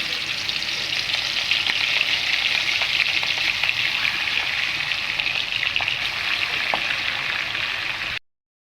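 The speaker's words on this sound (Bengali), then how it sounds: "বাকি মাছটা ভেজে নেব" Rohu fish pieces frying in hot oil in a pan, giving a loud, steady, close sizzle with small spits and pops throughout, with no talking, before cutting off abruptly at the end.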